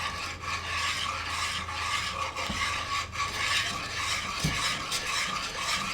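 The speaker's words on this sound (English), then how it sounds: "when you're stirring at this point, this is when you're scraping up all of those good leavenings from the bottom of" A utensil stirs gravy and scrapes the bottom of a pan in a steady rasping, rubbing rhythm, close and fairly quiet, with a couple of sharper knocks.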